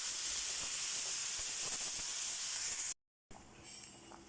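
Pork meat sizzles loudly in a pot with onion, a steady hissing spatter close up that cuts out briefly and then returns at a lower level.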